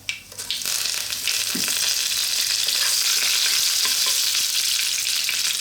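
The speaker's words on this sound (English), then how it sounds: "drop in our curry leaves, these fresh curry leaves, which can be quite noisy" Loud, steady crackling sizzle of fresh curry leaves hitting hot oil, bursting sharply at first then settling into a continuous spitting hiss close by.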